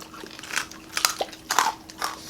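Crispy pork cheeks binagoongan crunch in several sharp, close bites spaced about half a second apart, with no talking over them.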